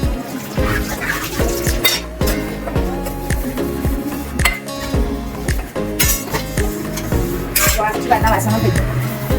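Milk for kaju rabadi kulfi boils in a pot while a spoon stirs it, making repeated metallic clinks and scrapes against the pot under a louder tonal backdrop.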